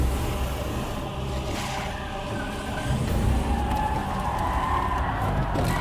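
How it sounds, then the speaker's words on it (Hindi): Many cars approach together as a dense, continuous rush of engine and tyre noise, loud and steady, with a slight swell as the group draws nearer. "देखो पीछे एक साथ कितनी गाड़ियां आ रही हैं।"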